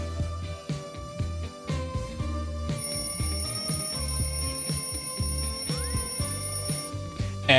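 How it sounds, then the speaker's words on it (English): A StreamElements timer widget sounds its alarm, a repeated electronic alarm-clock ringing pattern with steady pulsing beeps and layered tones that carries on for several seconds, loud and continuous without any talk. "It'll do like an alarm clock when it goes up."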